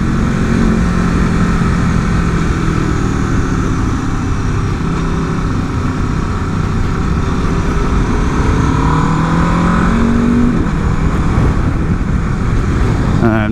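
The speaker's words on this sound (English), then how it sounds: "Oh, this engine sounds good." A 2024 Aprilia RSV4 motorcycle engine runs steadily and close, its drone rising and falling slightly as the rider cruises in a group demo ride, with wind noise over it and intermittent talk.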